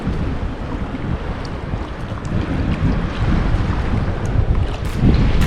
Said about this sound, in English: Here we are, the beach of Puerto Morelos.